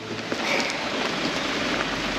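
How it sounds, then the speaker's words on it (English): Heavy rain pours down on a 4x4 campervan on an off-road trip near a landslide. A dense, steady hiss fills the whole stretch with no breaks. "the rain's obviously helping the situation here"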